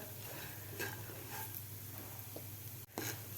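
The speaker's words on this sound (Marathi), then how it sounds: "व्यवस्थित आपल्याला हे फ्राय करून घ्यायचं आहे एक मिनिटभर अजून" Peanut and raw mango chutney, salted, fries in a pan with a steady close sizzle and occasional scraping stirs, plus a brief sharp clatter near the end; no one speaks.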